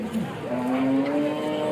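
A cow at the weekly Gorantla cattle market lets out one long, steady, fairly close moo over a low hum of market background noise.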